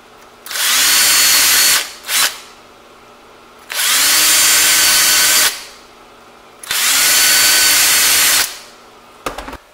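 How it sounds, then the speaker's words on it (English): A power drill reams the primer pockets of 5.56/.223 brass cases in three loud, whining bursts of about two seconds each, with short pauses between them and a brief tap at the end. "The next step of this assembly line is to go ahead and ream out the primer pocket of all the brass."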